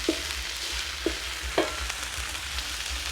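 Thai curry paste sizzles steadily over low heat in a pan while a utensil stirs and scrapes, with a few soft knocks against the pan.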